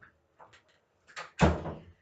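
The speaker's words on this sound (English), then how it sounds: "Go ahead, close that door for me." A door is pushed shut indoors after a few light creaks and bumps, ending in one firm, fairly loud closing thud near the listener.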